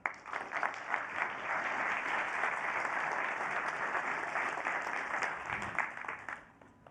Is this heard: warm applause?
yes